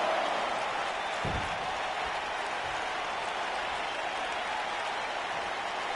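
A live arena crowd in the WWE 2K19 wrestling video game makes a steady broad roar and murmur with faint applause throughout.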